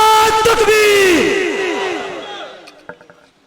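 A political rally crowd at a JUI gathering in Deer Kot shouts back in unison to a religious call, one loud drawn-out chant that rings and fades with echo.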